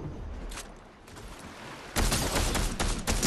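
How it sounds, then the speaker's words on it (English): Rapid gunfire in the Fortnite video game, starting as scattered cracks that break into dense, continuous bursts of shots, fairly loud and alone. "I'm getting shot at"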